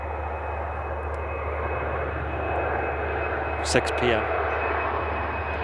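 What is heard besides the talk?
TAP Air Portugal Embraer jet passing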